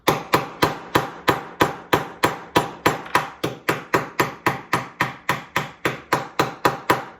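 A hammer taps a pin into a custom knife handle in a steady, even rhythm, about three sharp metallic knocks per second, close and clear with no voices.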